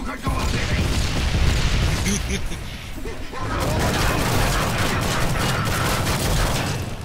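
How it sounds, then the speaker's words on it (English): Grenade barrage explosions in Killing Floor 2 rumble continuously, a dense wash of booms and crashing debris with a brief lull midway before another heavy volley, while a voice talks over the din. "He's gonna grenade barrage us now, isn't he?"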